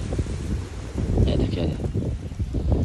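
A strong windstorm gusting through Dadyal ahead of heavy rain, a loud continuous roar of wind buffeting the microphone, with a voice faintly mixed in.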